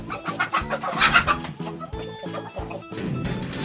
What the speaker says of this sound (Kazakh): Осындай тауықтарымыз бар, көп.